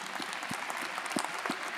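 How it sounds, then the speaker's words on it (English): Dense audience applause at an evening-division college commencement ceremony, a steady wash of many hands clapping with a few sharper individual claps standing out, moderately distant, no talk over it. "you want to clap for them too?"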